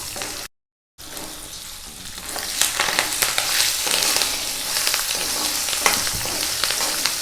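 Curry leaf sprigs sizzle and crackle loudly in hot oil for tamarind pulihora, a steady dense frying hiss with sharp pops, preceded by a brief silent gap at the start.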